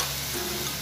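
Chicken strips sauté with onion and garlic in a pan, a steady, close sizzle of frying with no voices.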